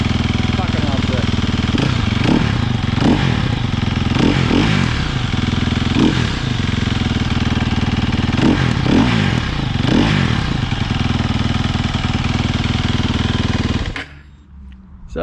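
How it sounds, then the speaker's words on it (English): A 2017 Sherco 300 SEF-R six-days dirt bike on its stock exhaust sits idling with a loud, close engine drone, blipped repeatedly in several sharp revs before the sound drops away near the end. "it is a pretty good sounding bike from the factory"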